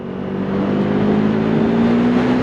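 A KTM Duke 390 motorcycle engine pulling hard under acceleration, a steady loud drone with pitch slowly climbing, close and alone with no voices.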